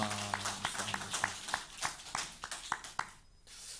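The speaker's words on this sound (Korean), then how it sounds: "박수하겠습니다." A church congregation applauds during a Sunday worship service, with irregular sharp hand claps ringing out in an uneven burst. A low sustained tone lies beneath the opening, and the clapping thins out before it stops.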